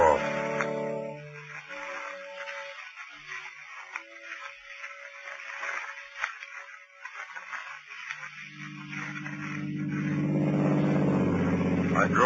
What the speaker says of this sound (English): I drove that Daimler for all she was worth